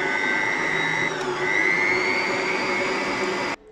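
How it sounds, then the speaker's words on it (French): An electric hand mixer beats shortcrust pastry dough with a loud, close, steady motor whine that rises in pitch as the speed goes up, then cuts off abruptly at the end. "Et ensuite, vous augmentez votre batteur."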